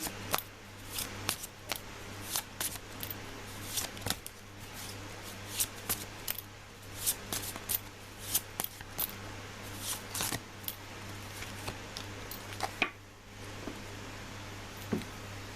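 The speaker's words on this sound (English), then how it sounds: "I'm just gonna shuffle you guys a little bit more" Soft, irregular riffling and tapping of tarot cards being shuffled by hand, with quick bursts repeating throughout, close and fairly quiet.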